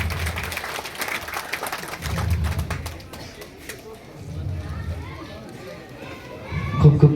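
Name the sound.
audience applause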